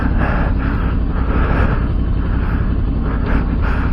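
CFMoto 450 motorcycle on stock tyres climbing a steep dirt hill, its engine a loud, continuous close rumble mixed with wind buffeting and no break throughout.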